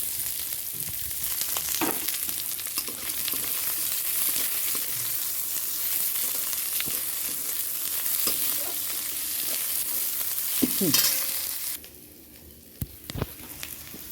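Onions fry in a pan with garlic and greens, giving a continuous close, loud sizzle with occasional stirring scrapes. The frying drops away abruptly near the end, leaving a few soft clinks.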